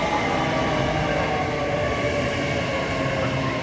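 An Avanti West Coast Pendolino train arriving at a platform at Milton Keynes Central on the West Coast Main Line, heard as a loud, steady rumbling roar that holds evenly throughout without a break.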